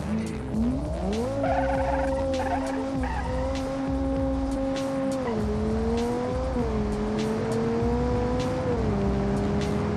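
A 5.2-ton all-wheel-drive car with a 2000-horsepower engine in BeamNG.Drive roars continuously, its engine pitch rising and dropping through gear changes while tires squeal and skid, loud and close.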